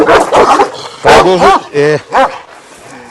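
A Kangal cross dog barks in a few loud, close bursts mixed with yips and whiny vocal tones, while someone speaks briefly between the barks.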